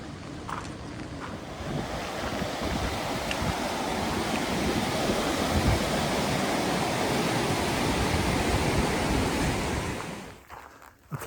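Walker River flowing along a Pacific Crest Trail crossing, a steady broadband rush of water that stays loud and continuous nearly throughout before dropping off abruptly near the end.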